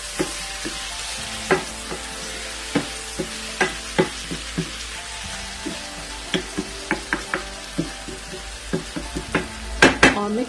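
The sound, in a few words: stirring chopped tomatoes into bhindi chicken in a pan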